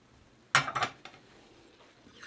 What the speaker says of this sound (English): And we just stir that together and heat it through until the sausage is finished cooking.